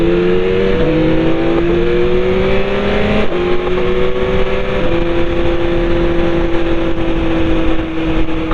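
A BMW motorcycle accelerates hard in first gear, its engine note climbing in loud, sustained pitch sweeps with brief dips at each throttle change, close and continuous with no talk.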